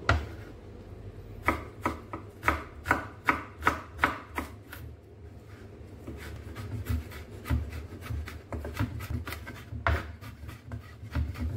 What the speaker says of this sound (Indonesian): Kemudian ini geprek dulu, terus kita cincang ya